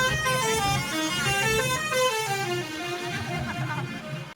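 Truck horns honking on a village road, a loud sustained multi-tone musical horn blaring continuously with traffic noise beneath.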